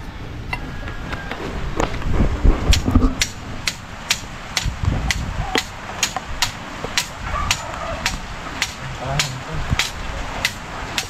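Repeated sharp hammer blows on a wooden tie beam during house construction, struck in irregular bursts at close range, with people talking intermittently underneath.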